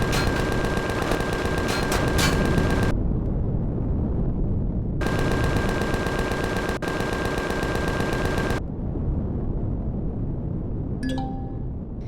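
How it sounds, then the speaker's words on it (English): A turret in Empyrion Reforged Eden fires long sustained automatic bursts, loud and continuous for several seconds at a time with short pauses between, ending with a few faint clinks. "the turret is taking care of business"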